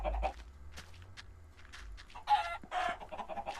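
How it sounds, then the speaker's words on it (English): Chickens in the Minecraft video game give several separate clucks and squawks in irregular bursts, spaced apart with quiet gaps between them. "We have chickens! everywhere."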